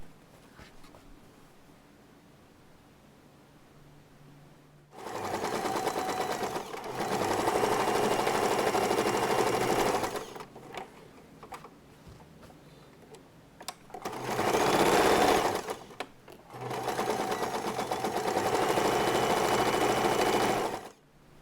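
A sewing machine stitches along newly created fabric edges of a box-bottomed storage organizer in three loud, steady bursts of whirring, separated by quiet pauses.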